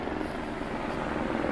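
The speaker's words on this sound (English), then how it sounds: "We've got helicopters coming over." An LAPD helicopter passes over Venice Beach around sunset, heard as a steady broadband rotor and engine drone, moderately distant and unbroken, with no voices.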